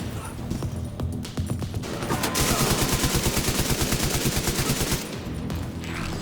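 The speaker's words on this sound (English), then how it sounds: "Firing on target." Rapid automatic gunfire rattles in a sustained burst during a cutscene from The Division 2: Warlords of New York, loud and rhythmic over several seconds amid clattering impacts and scattered single shots.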